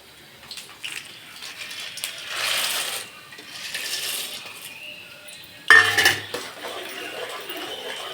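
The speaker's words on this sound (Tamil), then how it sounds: "இப்போ நெடக்கடலை பருப்பு சேர்த்துக்குவோம்." Chana dal hits a hot pan and roasts for puliyodharai, with rattling, clinking grains and scraping in scattered bursts, a louder clatter near the end, against a quiet background.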